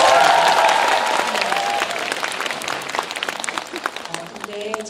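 A theatre audience at a live talk event for the film Swing Kids gives the filmmakers a dense, steady round of applause with crowd noise. It starts loud and slowly thins out toward the end.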